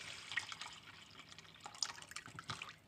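Marinade with garlic pours from a container into bags during grill prep, a faint, close liquid trickle with small splashes and drips that rise and fall over a few seconds, with no one talking.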